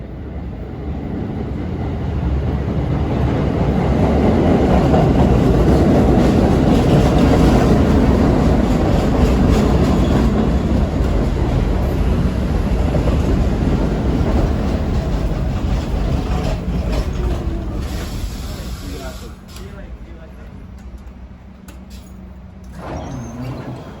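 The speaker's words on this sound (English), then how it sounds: "we got a St. George bound train coming in, followed soon after by a Tottenville bound train" Staten Island Railway trains pull into a station, a loud rumbling roar with rail clatter that builds, holds for a long stretch, then fades to quieter rolling and squeals as a second train follows.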